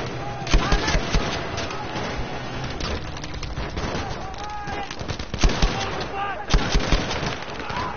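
Gunfire in the Battlefield V video game: rapid bursts and single sharp shots, several loud close cracks among sustained firing and game noise, with someone talking in French over it.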